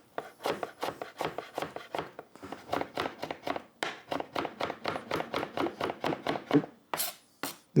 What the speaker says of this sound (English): So I will chop this very thinly.